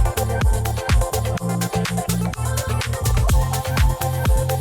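A second, slightly varied chopped vocal sample in an electronic production, cut into quick rhythmic stabs over a sustained bass line with sharp percussive hits, loud and continuous with no talking.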